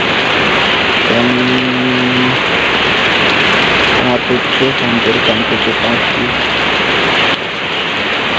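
Heavy morning rain pours steadily as a dense, loud wash with no letup, while a person speaks over it intermittently and a brief tonal hum sounds early on.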